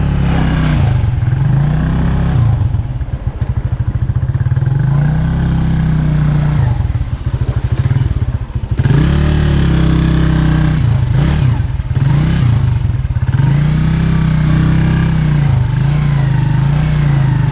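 An off-road vehicle's engine labours loudly and close as it crawls over rough terrain, droning at a low pitch with repeated swells of revving and brief dips in power.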